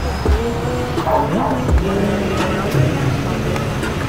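Busy road traffic with cars passing and engines humming and revving in a steady loud wash, a dog barking briefly and people talking underneath.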